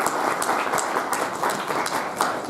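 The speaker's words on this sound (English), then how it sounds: "Please give her a round of applause." Indoor business-lunch audience gives a moderate round of applause, a fairly soft, steady patter of many hands with slight surges throughout.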